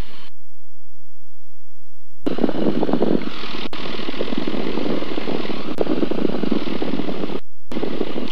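A small propeller airplane taxiing at an airport, its engine droning loudly and steadily close by after a quiet start, with brief dropouts near the end.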